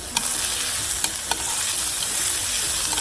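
Mushrooms and onion stir-fried in a little oil over high heat, giving a loud, steady sizzle with a few sharp clicks of a utensil against the pan, no voices.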